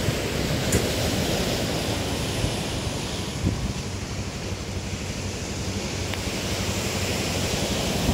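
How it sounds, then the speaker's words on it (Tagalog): Huge ocean waves at a roadside view deck in Bato, Catanduanes, rolling in as a steady, dense roar of surf mixed with wind buffeting the microphone, with a few louder crashes standing out. "Na makikita yung napakalalaking alon."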